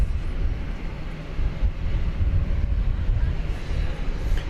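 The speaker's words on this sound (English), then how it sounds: "We've got Spirit Airlines going to Los Angeles at Airbus A321neo, flight 2452." Spirit Airlines Airbus A321neo jet at Dallas Fort Worth airport, a steady broad engine roar with heavy low rumble and wind buffeting, continuous and fairly close throughout.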